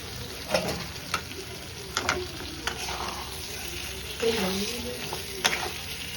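Potatoes fry in a pan with a steady, close sizzle, broken by sharp scraping clicks as they are stirred at irregular intervals.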